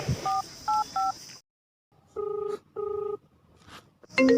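Electronic keypad tones beep in quick pairs and short bursts, with a pause partway through, followed by a brighter tone at the end.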